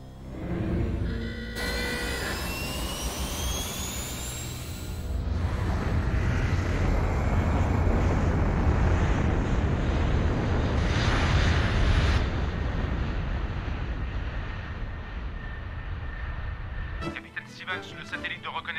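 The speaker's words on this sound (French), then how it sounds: "L'avion furtif a décollé." A stealth jet aircraft takes off, its loud broadband engine roar swelling and sustained across most of the clip, with a brief tonal whistle early on and a sharp change near the end.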